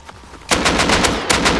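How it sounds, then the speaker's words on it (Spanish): Automatic gunfire in the survival video game Rust: rapid loud bursts of shots in two clusters, preceded by a quieter stretch of faint background noise. "Nos están disparando con bolas."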